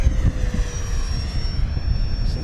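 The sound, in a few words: FMS Super Scorpion 70mm EDF RC jet flying steep turns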